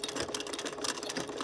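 A sewing machine backstitches a pinch pleat through stiff buckram on curtain fabric, its needle chattering in a fast, even run of close stitches, loud and up close.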